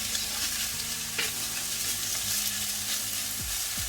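Seafood Mongolian rice with eggs stirred in a pan, a steady close sizzle with scraping stirring strokes running under it throughout, no voices.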